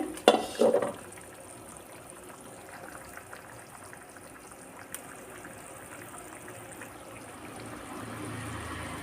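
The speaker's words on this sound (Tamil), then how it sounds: "குழம்ப திறந்து பார்ப்போம் நல்லா கொதிக்குது" A soft, steady bubbling and simmering hiss from a pot of curry, with a brief clatter of a lid at the start.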